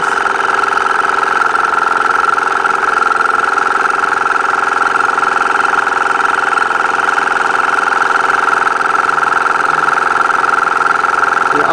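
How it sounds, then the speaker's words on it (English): An Audew dual-cylinder 12V air compressor runs steadily while inflating a tire, a constant close mechanical drone with a strong tonal hum and rapid piston chatter throughout. "All the other 12-volt air compressors I've tested, they definitely don't inflate this fast."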